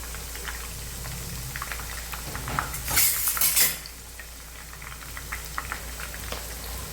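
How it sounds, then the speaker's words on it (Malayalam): Sliced onions fry in hot oil in a pan, a steady crackling sizzle with a brief burst of metal utensil scraping and clattering against the pan midway. "ഞാൻ ചിക്കൻ ഇട്ട് കൊടുക്കുന്നതിന് മുന്നേ കുറച്ച് സബോള ഒന്ന് ഫ്രൈ ചെയ്ത് എടുക്കുന്നുണ്ട്"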